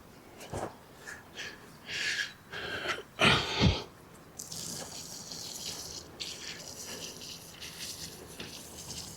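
Water pours and splashes in short bursts onto bean plants, then settles into a gentle, continuous trickle, fairly close and moderately quiet.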